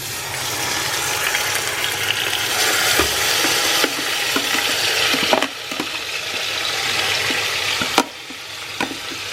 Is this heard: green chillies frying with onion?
yes